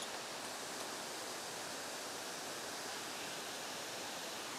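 The waterfall at Wadsworth Falls State Park roars in a dense, steady rush of falling water, loud and unbroken from start to finish.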